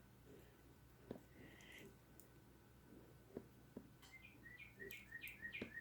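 Birds chirp outdoors, a faint rapid run of high tweets building toward the end, behind soft clicking and a quiet voice nearby.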